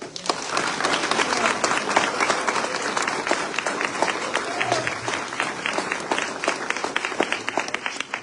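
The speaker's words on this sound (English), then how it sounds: "I want y'all to give them a round of applause." A crowd breaks into sustained applause at Southern University, dense clapping holding steady at full volume throughout with a faint murmur of voices mixed in.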